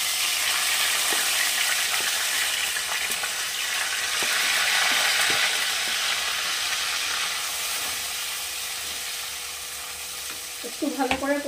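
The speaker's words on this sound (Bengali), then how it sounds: "একটু ভালো করে কষিয়ে নেব।" An onion, tomato, ginger and garlic paste sautéing with whole cumin in a pan, a steady close sizzle with light stirring scrapes, ending with a brief clatter near the close.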